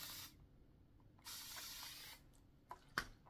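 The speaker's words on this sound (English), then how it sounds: "if you don't have a continuous spray bottle" Several bursts of fine, hissing spray from a continuous spray bottle misting natural hair, a long mist followed by shorter puffs, close and fairly quiet.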